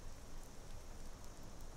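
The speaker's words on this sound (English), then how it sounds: "It's still raining here." Rain falls steadily in Skyrim, an even, continuous hiss of pattering drops with no voices.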